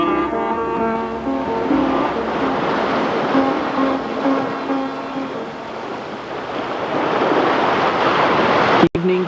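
Ocean waves wash steadily against the shore in a loud, continuous broadband surge, with a faint tonal hum running beneath and no voices.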